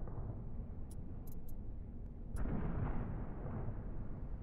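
Explosions in the space game SpaceBourne 2: a steady low rumbling din with a few faint sharp pops early on, then a louder burst partway through that swells into a sustained roar, with no voices.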